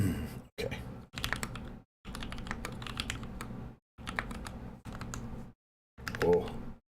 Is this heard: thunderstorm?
no